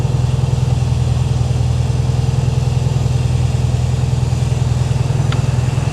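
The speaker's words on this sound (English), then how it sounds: "Obviously, it's not going to leave sounding like that, but cold idle, about 70 PSI," Cold idle of the engine in a 1968 VW Karmann Ghia, a steady, loud, close-up rumbling putter with an even rapid pulse holding for several seconds, no talking over it.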